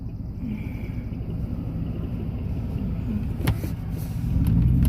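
A truck passes on a road outside, a steady low rumble that grows louder toward the end, heard from nearby without any talk.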